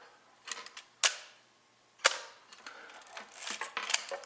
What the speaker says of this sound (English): it's got a metal blade shutter